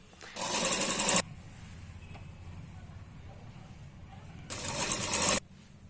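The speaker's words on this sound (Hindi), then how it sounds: "जिस तरह से हमारा ये आकार है उसी तरह से हम इसे यहाँ पे स्टिच करेंगे" Two short, loud bursts of a sewing machine stitching a yoke strip onto a double katori blouse, each a rapid close mechanical rattle about a second long, separated by a quiet stretch of room noise.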